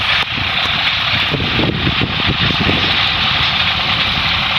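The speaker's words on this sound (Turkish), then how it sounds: "Bu arada rüzgar esiyor." Steady wind roars and buffets a microphone in an open field, a broad continuous rush with a low tractor engine rumble underneath throughout.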